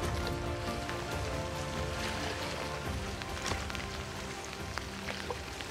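Steady rain patters on surfaces during a fishing session for cod, a dense continuous hiss of drops with scattered sharper taps and no voices.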